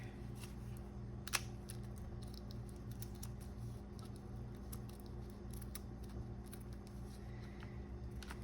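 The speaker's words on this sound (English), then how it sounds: "I'm going to cut it right here." Scissors cut a paper hinge for an altered library book, faint soft snips over a steady low hum, with one sharper click partway through.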